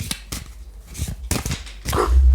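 A dog barks indoors in several short, sharp barks spaced through the moment. The barks sound close and fairly loud in a room.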